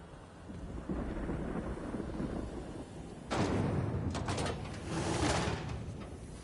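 Thunder rolls through a stormy scene in the video game The Outer Worlds, starting as a low steady rumble and then breaking into a sudden loud crack. Heavier rumbling bursts follow over continuous rain-like noise.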